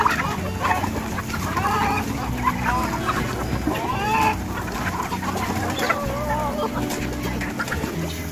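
Broiler chickens and roosters on a poultry farm cluck and call nonstop, a dense, close chorus of overlapping voices that never pauses.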